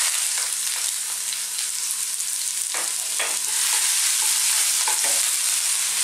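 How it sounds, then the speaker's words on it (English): Garlic and ginger dropped into very hot oil over high heat for vegan bell pepper fried rice, a loud continuous sizzle and hiss close by, with a few stirring knocks and scrapes. "we're going to start off by dropping in our garlic and our ginger"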